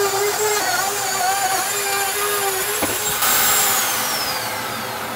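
A router with a bearing-guided bit trimming PVC shower paneling against a Baltic birch plywood wall, a loud continuous high-pitched whine with shifting tones as the cut progresses.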